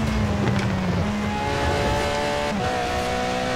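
Car engine in Forza Horizon 4 at racing speed, a steady loud drone with sustained harmonic tones that shift in pitch near the end as it revs and changes gear, with no talk.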